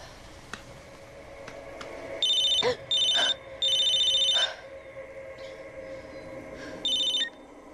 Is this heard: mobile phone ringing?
yes